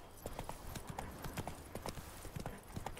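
Horse hooves clip-clopping at a steady, rhythmic trot while riding in The Witcher 3: Blood and Wine, a continuous even beat over a faint ambient background, moderately close, with no speech.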